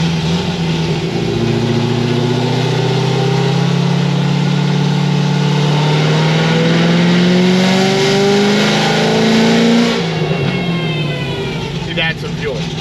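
A Corvette C6 Z06 with a Stage 4 build makes a loud, sustained wide-open pull, its engine note climbing steadily through the revs before backing off near the end, recorded close with a voice faintly underneath.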